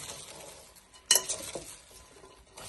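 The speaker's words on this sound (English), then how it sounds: "So you sprinkle a little bit salt on it. So you mix the salt." Salt being mixed by hand into shredded cabbage for coleslaw, a soft close rustle with one brief sharper stir around the midpoint and faint scraping after, alone with no talk.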